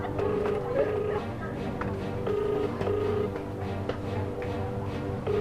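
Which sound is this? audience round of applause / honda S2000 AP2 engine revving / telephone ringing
telephone ringing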